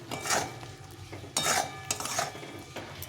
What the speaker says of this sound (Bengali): আর এখন দিয়ে দেবো হলুদ গুঁড়ো, দিয়ে আবার ভালো করে নেড়ে দিতে হবে